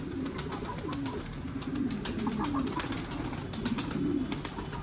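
Pigeons coo in low, repeated rolling calls at a loft, with sharp chirps and wingy rustles above, steady and fairly close throughout.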